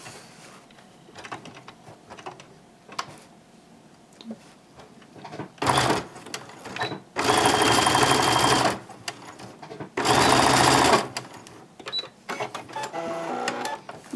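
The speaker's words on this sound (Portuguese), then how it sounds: "Eu vou colocar o quadradinho pra dentro e vou costurar aqui." A sewing machine stitching a fabric vaccination-card holder bag runs in several loud, steady bursts of rapid mechanical whirring, each lasting one to two seconds, with quieter handling noises and pauses between them.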